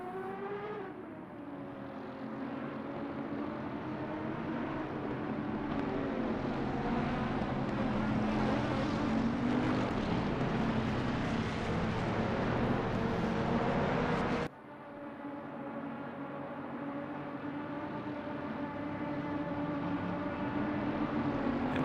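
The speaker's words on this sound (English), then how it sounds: "V12 Aston Martin of Labe is just making a ton of noise." V12 Aston Martin GT3 race car engine during a British GT3 race at Barcelona, a sustained droning roar with slowly rising and falling pitch, then an abrupt drop in level partway through.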